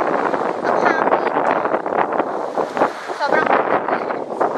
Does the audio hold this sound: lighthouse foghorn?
no